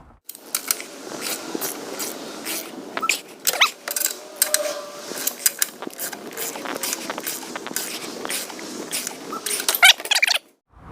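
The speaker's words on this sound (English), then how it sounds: "So we're gonna go ahead and torque these to 100." A torque wrench with a socket tightens chassis brace bolts on a 2015–2020 Mustang, making close, irregular bursts of ratcheting clicks and metallic creaks, with short pauses between pulls.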